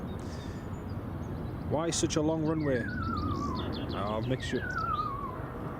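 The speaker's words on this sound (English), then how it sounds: "The noise you can hear there in the background, folks, is just the Ranger using the bird scarer." An airport ranger's bird scarer at Edinburgh Airport plays warbling, chirping distress-call tones with sweeping whistles, distant and steady behind someone talking.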